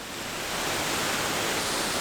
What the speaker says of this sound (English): it's a neat little waterfall.